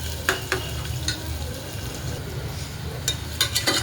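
Crushed garlic, ginger, coconut and coriander sizzling in oil in a pan, a continuous close hiss with a few sharp stirring scrapes and clinks of the spoon against the pan.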